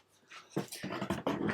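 A dog pants in quick, breathy bursts mixed with soft whimpers, close by in an indoor room, repeating several times over a moment with no speech.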